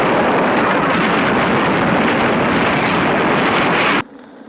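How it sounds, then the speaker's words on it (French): Loud, roaring wind buffets the microphone while riding an electric unicycle, a constant dense rush that cuts off abruptly near the end, leaving faint quiet. "On sous-estime souvent la nuisance sonore que représente le vent quand on est en gyroroue."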